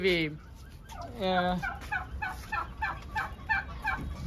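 Blue slate turkeys gobble in rapid, rattling bursts, one loud close call followed by a string of repeated gobbles, with no talking.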